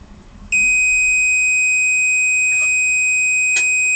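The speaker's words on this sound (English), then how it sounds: "There's the alarm, but it's still weighing," A DIY kitchen scale kit's overload alarm sounds as one loud, continuous high-pitched electronic tone, holding steady for several seconds with a couple of brief clicks over it.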